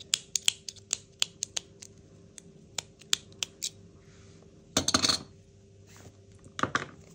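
Scissors snip crochet yarn during bag making: a quick series of sharp, close clicks, then two louder, rougher snipping bursts near the end, with no talking.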